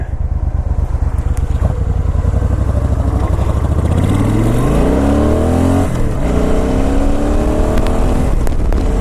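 Suzuki Boulevard S83 motorcycle riding along a highway, its engine droning loud and close, then rising in pitch as it accelerates, dropping briefly at a gear shift and climbing again.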